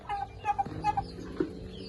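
Farm chickens cluck in short, close bursts, several soft clucks spaced across a couple of seconds in a quiet rural yard, with no talk.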